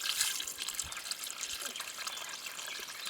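Water trickles and splashes as it is poured into a 20-liter plastic fermentation container for marula fruit beer, a steady soft splashing that stays close and fairly quiet over the whole stretch.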